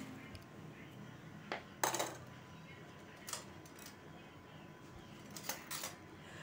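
A knife slicing a bitter melon in half on a cutting board produces a few faint, sharp clicks and knocks spread across the moment, with quiet kitchen background around them.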